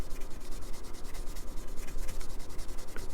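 Frets on a 2019 Fender Deluxe Nashville Telecaster being polished by hand, a steady scratchy rubbing stroked back and forth in quick, even rhythm, close and alone.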